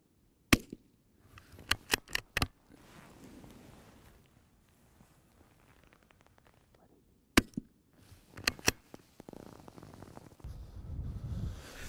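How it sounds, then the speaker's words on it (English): Sharp rifle shots crack out at rabbits in the Highlands, several sudden reports in two clusters separated by quiet outdoor stretches, with faint rustling and movement between them. "Two crop-destroying conies fall to 2 shots."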